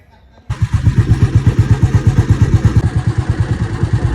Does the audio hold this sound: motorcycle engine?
yes